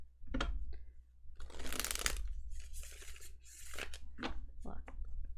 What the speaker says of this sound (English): I want to get like one really good shuffle in here.